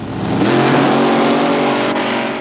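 A very fast racing vehicle accelerates hard from a standing start, its engine note swelling loud and climbing in pitch, close and alone.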